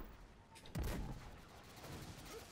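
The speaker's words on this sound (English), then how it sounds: "I do have a legendary rocket launcher that does arc damage." A legendary arc-damage rocket launcher fires in Destiny 2, a single sharp blast followed by a rumbling, fading roar of the projectile and explosion over steady game background noise.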